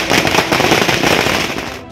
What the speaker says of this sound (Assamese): ৰাজপথত প্ৰথমে ফটকা ফুটাই কংগ্ৰেছ কৰ্মীৰ বিজয় উৎসৱ।